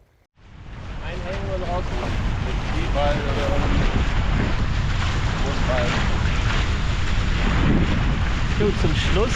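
Strong wind roars steadily across the microphone aboard a Nacra 570 catamaran sailing during the Kiel Week windjammer parade, with water rushing beneath the hull and faint voices in the gusts.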